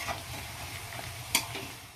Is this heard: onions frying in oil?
yes